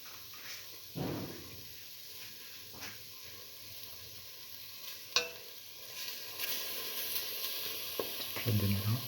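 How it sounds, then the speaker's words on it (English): Two eggs sizzle and crackle in a hot pan, a steady quiet frying hiss broken by a few clinks and stirring scrapes, with a brief low voice near the start. "and let them fry"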